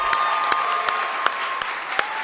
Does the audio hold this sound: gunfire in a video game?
no